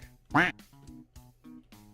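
Cartoonish duck quacks from the Duck Race stream game: one loud, close quack followed by several fainter, rapid quacks, alone with no talking.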